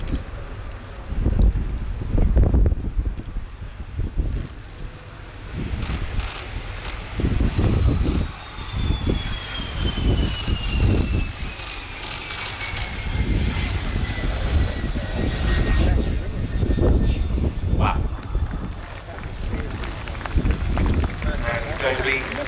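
A combat aircraft landing at the RIAT air show: a loud, surging jet engine roar with a falling whine, heard outdoors, while a commentator talks over a public address system throughout.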